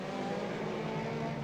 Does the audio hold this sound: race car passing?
yes